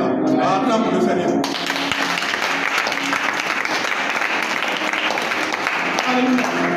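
A church congregation breaks into loud, sustained applause and clapping during a prayer service, a dense crowd roar that starts abruptly after a preacher's voice and carries on with shouting mixed in.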